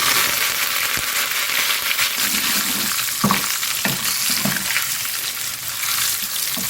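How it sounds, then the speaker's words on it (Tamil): Mustard and cumin seeds splutter and crackle in hot oil for a mango sambar tempering, a steady close sizzle broken by sharp popping bursts, with no talk. "நல்லா பொரியட்டும் கடுகு நல்லா பொரியட்டும் சீரகமும் நல்லா பொரியட்டும்"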